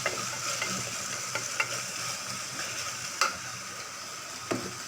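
Fried onions, tomato, green chillies, coriander and mint being stirred in a pan as they sizzle: a constant frying hiss broken by occasional scraping strokes of the spoon, close and fairly loud.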